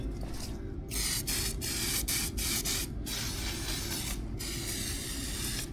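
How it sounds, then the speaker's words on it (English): 3M industrial cleaner is sprayed onto a G Wagon part in a garage, several short close hissing bursts from a spray bottle in quick succession over a low steady background hum. "Trying with some 3M industrial cleaner."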